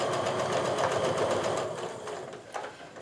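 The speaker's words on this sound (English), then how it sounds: "So I'm just going to go ahead and sew this one together so you can see what I mean by that." A sewing machine stitches flying geese quilt pieces, its rapid rhythmic needle chatter running continuously and close, easing slightly toward the end.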